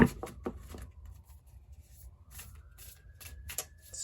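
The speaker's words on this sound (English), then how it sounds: "second shuffle." Tarot cards being shuffled by hand, with a few brisk riffling bursts at the start and near the end and soft, quiet handling noise between them.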